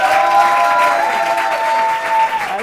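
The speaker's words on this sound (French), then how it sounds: "on applaudit la sélection de ce soir." A studio audience at a French TV contest show applauds the evening's contestants as they come on together, a brief burst of dense clapping with a tonal musical background underneath.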